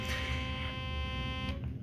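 A Sonicare 4100 sonic electric toothbrush gives a steady electric buzz with a fine harmonic whine throughout, a close motorized hum that cuts off abruptly near the end.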